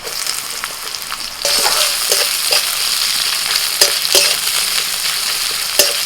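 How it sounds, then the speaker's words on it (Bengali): Chopped onion hits a hot pan of oil and jumps into a louder, fuller sizzle that holds steady, with a few spatula scrapes and crackling pops up close. "এবার দিচ্ছি পেঁয়াজ কুচি"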